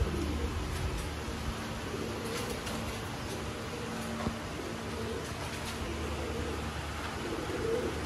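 Pigeons kept by a pigeon fancier in Sialkot, Pakistan, coo softly in a low, steady murmur beneath a constant background hum, with no voices heard.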